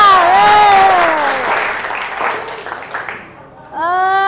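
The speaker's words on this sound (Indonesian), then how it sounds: "Tepuk tangan buat Chandra" Classroom applause for a top-scoring student in a Hindu religion lesson, scattered clapping from pupils heard under voices at the start, fading briefly before a voice picks up again near the end.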